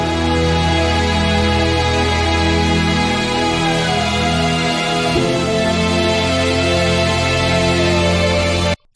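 A song-starter music sample plays as a dense, sustained layered track with steady tones across the range, loud and continuous before cutting off abruptly near the end.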